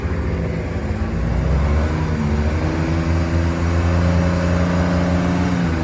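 A JLG 330 CRT scissor lift's engine runs steadily, a close, loud droning hum with layered tones that rise slightly in pitch partway through, no talking.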